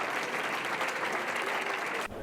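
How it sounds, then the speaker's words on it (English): Steady crowd applause for a first grade elementary school music program, a dense, loud standing ovation that holds evenly and then cuts off abruptly near the end. "The students' hard work was appreciated as they received a standing ovation from the crowd."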